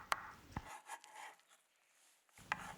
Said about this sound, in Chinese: 用刀直接把它拍碎，然后再改刀把它剁成小碎丁